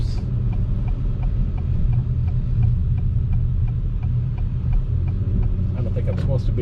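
A 2021 Acura TLX Type S idles with a steady low exhaust burble and hum, heard up close from outside the car, with faint regular ticking and a brief rise of other noise near the end.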